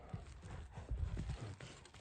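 A horse offered for sale as an ulak mount is turned left and right, its hooves thudding in a soft, irregular clip-clop close by, with no voices.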